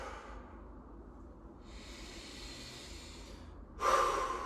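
Slow, deep breaths taken in a quiet room, a long soft airy inhale and exhale followed by a louder, nearer breath at the end, with no talking.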